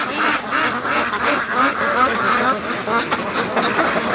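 A flock of wild Brant geese honks and clamors steadily at close range outdoors, dense overlapping calls filling the whole stretch.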